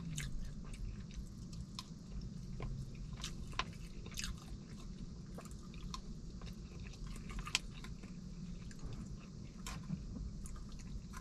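A person chews and eats rice from a Mexican restaurant, with soft, close, wet chewing and occasional small clicks over a low, steady room hum, no talking.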